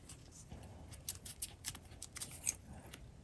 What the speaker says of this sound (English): I'm going to cut two for the wing and two for the feet